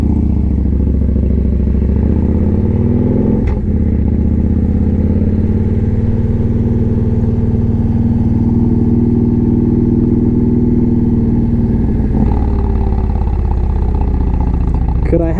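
Victory Vegas 8-Ball motorcycle from 2015 rumbling loud and close at a steady idle, with two sharp blips of the throttle partway through; deep, coarse exhaust tone throughout.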